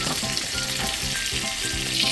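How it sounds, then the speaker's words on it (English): Pork chops sizzle steadily in a hot frying pan, a bright constant crackle with some faint clinking underneath, close and unbroken. "throw it in the frying pan and saute it up real quick and heat it up"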